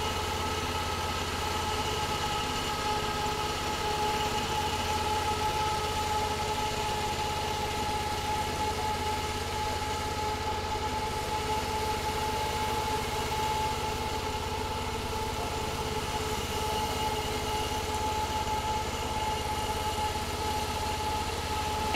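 Steady engine of a Peterson Swingblade sawmill running at reduced RPM during a live demonstration, a constant mid-pitched drone with even hum and vibration throughout, loud and close, no voices.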